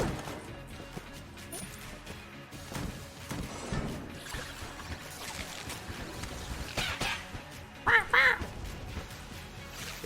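Enemy birds quack in the Enter the Gungeon video game amid busy game music and effects, with short duck-like calls standing out among the dense in-game clatter, loudest near the end.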